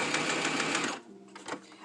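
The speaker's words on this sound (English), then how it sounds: "I was trying to do a backstitch." Sewing machine making a quick backstitch on a face mask, with a loud, fast burst of stitching for about a second before it stops, followed by faint clicks.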